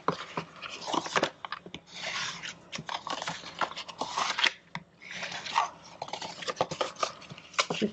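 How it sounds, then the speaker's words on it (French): Crisp scraping and tapping of a bone folder scoring folds into paper for a treat box, heard in short repeated strokes close by at a low level. "je vais venir prendre mon plioir et je vais venir marquer tous mes plis"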